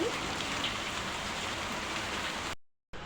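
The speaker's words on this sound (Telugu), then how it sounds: "ఫుల్గా వర్షం పడుతుంది" Steady, dense rain pours down in a continuous broadband hiss, close and loud, with no voices; it cuts out briefly near the end before resuming.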